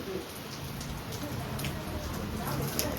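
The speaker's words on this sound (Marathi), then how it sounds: "उमरादेवीचा डोंगर पण दिसत नाही एवढा पाऊस चालू आहे" Heavy monsoon rain pouring steadily over a village, a dense, even hiss of falling water at moderate loudness with faint bird calls in the background.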